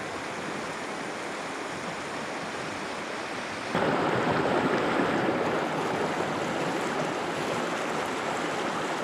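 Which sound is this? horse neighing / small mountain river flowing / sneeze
small mountain river flowing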